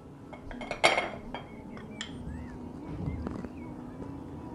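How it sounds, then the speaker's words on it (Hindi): A microwave-safe mug clinks and knocks on a kitchen counter as mug cake ingredients such as sifted flour and cocoa powder are added, giving a few sharp close clinks over a low background hum. "आपने कोई माइक्रोवेव सेफ मग ले लेना है।"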